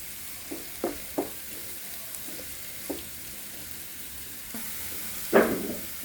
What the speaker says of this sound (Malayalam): കുറച്ച് നേരം മഞ്ഞയുടെ സ്മെല്ല് മാറാൻ വേണ്ടി വഴറ്റി കൊടുക്കണേ.